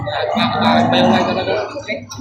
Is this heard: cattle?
yes